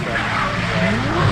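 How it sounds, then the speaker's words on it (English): Cars drift at Oulton Park during a JDM tuner show, a brief loud burst of squealing tyres with rising and falling engine drone heard from trackside at a distance, with some voices mixed in. "they start drifting around there"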